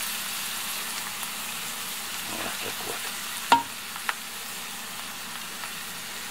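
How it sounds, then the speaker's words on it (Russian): Onion and carrot fry with flour in a pan for a pasta gravy, giving a soft, steady sizzle with a few stirring scrapes and a sharp tap of a utensil against the pan; a voice speaks briefly. "Ну вот, пообжарился наш лучок с морковочкой."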